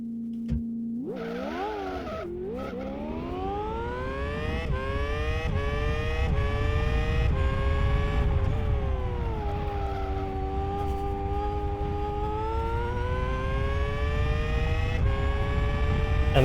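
A racing simulator car engine on a test drive lap, rising and falling in pitch through gear changes as it revs hard, then holding a steady, sustained drone that stays loud and close throughout.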